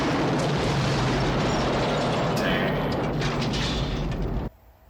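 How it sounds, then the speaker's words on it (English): Grenades explode in the 1987 action film Lethal Weapon, a loud, dense roar of blasts and debris that keeps going for several seconds before cutting off abruptly into a quiet background. "Are those grenades?"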